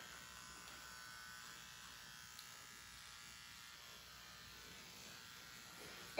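Electric hair trimmers buzz steadily and close up while tidying the lower edge of a woman's fine, thick hair during a pixie haircut, a continuous hum throughout with no talking.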